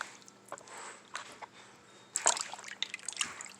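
Poke leaves are rinsed one at a time in a small amount of water, with soft sloshes, drips and wet squishing sounds that come in irregular, close-up bursts, fairly quiet and with no talk.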